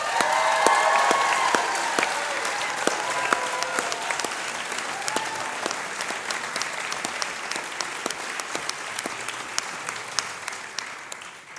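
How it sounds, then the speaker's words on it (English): Audience at a university graduation ceremony breaks into sustained applause, a dense crowd of clapping hands filling the hall, strongest at first and then easing into a steady, even patter. "applaud those behind me"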